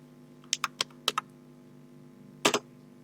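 A computer keyboard clatters as a command is typed: a handful of quick, close key presses, a pause, then a final double tap.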